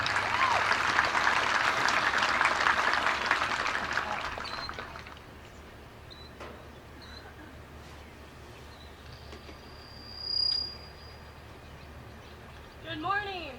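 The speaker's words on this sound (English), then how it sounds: "Please give her a warm round of applause." Applause from a graduation ceremony audience fills the first few seconds, then fades out, leaving quiet room tone with a brief tone and faint sounds near the end.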